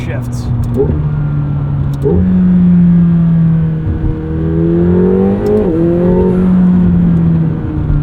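The 4-litre V8 of a 2025 McLaren 750S pulls hard through several gears, each shift marked by a brief dip and jump in pitch before the revs climb again, loud.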